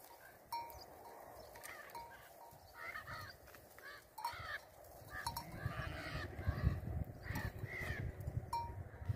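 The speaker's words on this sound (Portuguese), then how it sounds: "As araras lá vindo do sertão pra ir pra Canudos." Macaws calling in the Caatinga backcountry, a series of harsh, raspy squawks at moderate distance over a quiet rural background with some low rumbling near the end.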